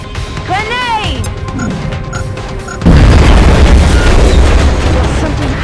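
A grenade detonates in XCOM: Enemy Within, a sudden loud crash that cuts in abruptly and leaves a dense, roaring rumble; before it, synthetic game tones and a sweeping whine sound alone.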